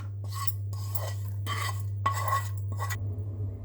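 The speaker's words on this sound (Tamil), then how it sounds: "நல்லா கலந்து விட்டுக்கோங்க." A spoon stirs thick oats dosa batter with sautéed onions in a bowl, giving several separate bursts of wet scraping and clinking against the vessel over a steady low hum.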